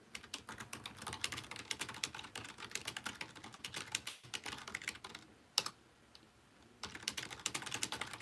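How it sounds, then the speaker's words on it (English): Rapid typing on a computer keyboard while writing a work email, dense close clicking keystrokes in quick bursts with a short pause partway through, no talk. "Can you hear me typing?"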